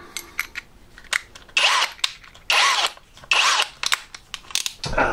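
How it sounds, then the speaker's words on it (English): A power drill with a 6mm bit bores holes for blind brackets in several loud, buzzing bursts about a second each, separated by short pauses and small clicks and handling noises. "And I'm going to drill all three holes there"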